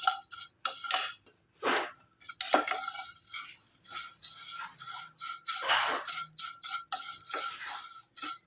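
Vermicelli being fried in ghee in a pan, a metal spatula clinking and scraping against the pan in irregular bursts, close and fairly crisp, with no voices.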